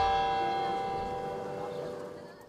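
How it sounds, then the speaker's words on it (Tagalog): A single struck bell of Manila Cathedral ringing out with a long, bright resonance that slowly decays over a couple of seconds, tolling after the death of Pope Francis. "Pinatunog ang kampana ng Manila Cathedral kasunod ito ng pagpanaw ni Pope Francis."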